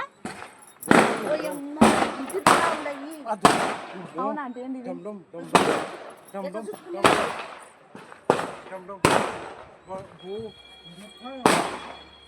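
Firecrackers burst at a birthday celebration in a rapid, irregular series of loud, sharp bangs close by, with excited voices between the blasts.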